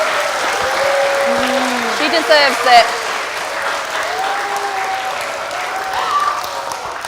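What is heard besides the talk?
audience applause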